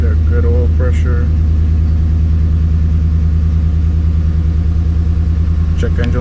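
Chevrolet Z71 1500 pickup engine idling after repair, a steady low mechanical hum that stays constant throughout, with faint voices briefly over it near the start and end.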